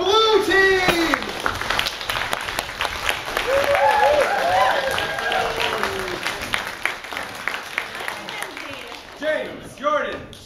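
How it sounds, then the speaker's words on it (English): An audience at a live improv comedy show claps and cheers for a team, a dense, sustained wash of applause with voices and shouts rising over it and fading toward the end. "let's all get a round of applause or drum roll or whatever you want to do for our blue team"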